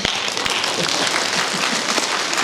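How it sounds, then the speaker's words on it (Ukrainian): An audience at an evening concert applauds, dense steady clapping from many hands filling the space continuously, loud and close, with no voices over it. "Мені аплодують."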